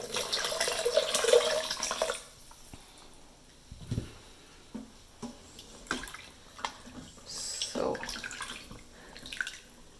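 Water pours steadily into an Instant Pot for about two seconds, a bright rushing splash, then gives way to quieter clinks and small knocks of the pot or a utensil.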